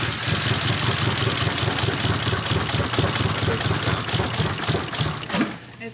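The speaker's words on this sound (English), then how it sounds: "It's running on 2 cylinders." A VW Corrado engine idles rough on only two cylinders, a loud, close, uneven rhythmic chugging with steady pulsing beats that falters and dies out near the end.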